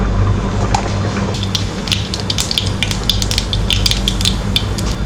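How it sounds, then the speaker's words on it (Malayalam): Mustard seeds splutter and pop in hot oil in a pan, sharp crackling bursts thickening over a steady sizzle, heard close without any talk. "ഓയിലൊഴിച്ച് കുറച്ച് കടുക് ഇട്ടെടുക്കാം."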